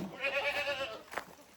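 A goat gives one drawn-out, wavering bleat near a farm shed, followed by a short scuffle and quiet surroundings.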